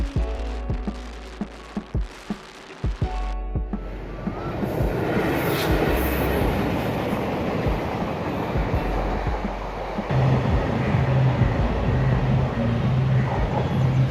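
A train runs along the railway line beneath the elevated Alleppey bypass highway near a level crossing. After a few sharp clicks, a loud, continuous rumble and clatter builds and holds steadily to the end, with no talk.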